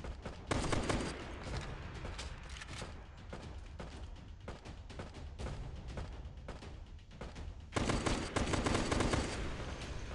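Rapid video-game gunfire fills the scene, with bursts of automatic shots and scattered single cracks, loud at the start and again near the end, fainter rattling in between.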